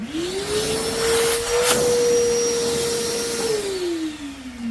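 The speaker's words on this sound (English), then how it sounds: "go and vacuum up your mess so you don't have sawdust in your way" A nearby vacuum cleaner spins up to a steady suction whine while sucking up sawdust, runs with slight fluctuations, then powers down.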